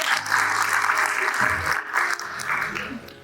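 Applause breaks out from the audience at a nursing exam guidance seminar in Rajkot, a burst of many hands clapping that fills the room, loud and close, with a voice talking over it.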